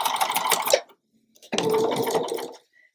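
Sewing machine stitching pieces of a quilt leaf block, two bursts of steady whirring close by with a short pause between them.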